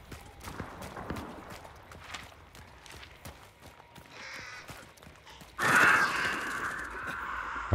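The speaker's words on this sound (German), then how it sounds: "Ein Raben." Raven cawing in the video game Hunt: Showdown, a few harsh calls scattered over a busy game soundscape with footsteps, before a loud broadband noise burst takes over.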